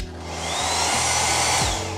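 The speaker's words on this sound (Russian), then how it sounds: "Давайте проверим фен." A hair dryer in a Phuket hotel bathroom blows with a steady, close whooshing roar and motor whine, its pitch shifting slightly partway through, with no one talking.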